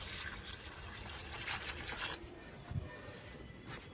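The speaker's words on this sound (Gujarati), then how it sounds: "ચાલો આપણે ને બધા પાણી નાખી દઈએ." Water is poured onto plants in a garden, a steady close splash and trickle running the whole time, fairly soft.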